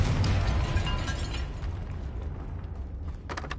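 A blasting-spell explosion in Hogwarts Legacy inside a tomb, a heavy rumbling burst that fades over a couple of seconds, followed by a few quick crackling pops near the end, with no voices.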